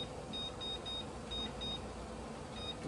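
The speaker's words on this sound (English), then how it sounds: "I'm gonna go ahead and set this timer for 10 minutes." A kitchen timer being set for ten minutes during pressure canning of baby carrots with rosemary and thyme: a series of short, faint, high electronic beeps in uneven groups over a steady background hum.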